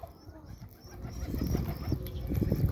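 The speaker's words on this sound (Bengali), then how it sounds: "এই যে কবুতর সব চলে আসছে।" Pigeons gather at feeding time after a midday rain, with soft low cooing and bustling movement growing louder near at hand, alongside faint higher bird calls.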